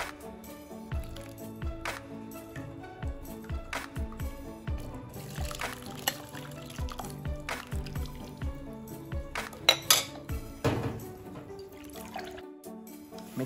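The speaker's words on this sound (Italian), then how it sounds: "Adesso andiamo a filtrarle con l'aiuto di un colino in tessuto oppure con un colino in acciaio mettendo all'interno un torcione di cotone." Homemade mint syrup filtered through a cloth strainer or a steel strainer lined with cotton cloth, irregular drips and squishy splashes over a running trickle, close and moderately loud, with some clattering sounds mixed in.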